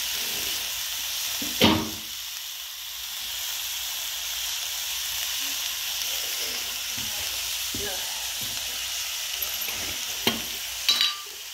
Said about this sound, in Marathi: अगोदर परता लागत असेल लसूण